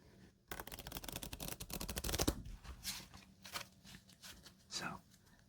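Playing cards shuffled by hand at a soft-spoken solitaire table: a fast riffle burst of crisp flutters, then several separate slaps and bridging riffles, close and fairly quiet.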